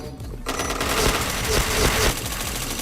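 Rapid automatic gunfire from a shooter video game bursts in loud and close after a brief quiet start, a dense rattling stream of shots with a few sharper cracks standing out before easing slightly at the end.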